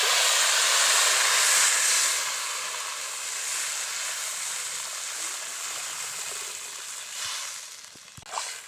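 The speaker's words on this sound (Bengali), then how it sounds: "এখন এর মধ্যে জল দিয়ে দিচ্ছি।" Water poured into a hot pan of fried vegetables and fish, a loud broad sizzle and steam hiss that eases into steady bubbling simmer, with a faint clink near the end.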